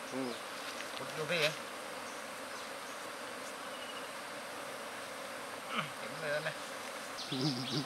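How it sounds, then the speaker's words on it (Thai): Honey bees being caught from a hive buzz as a dense, continuous drone, close and steady, with a few louder passes of single bees and faint voices under it. "มาดูครับวิธีการจับผึ้ง"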